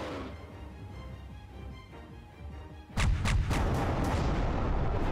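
Starship weapons fire in the Halcyon 6 space game: a quieter stretch of low rumbling, then at about three seconds a sudden loud volley of sharp, rapid shots and booms that continues to the end.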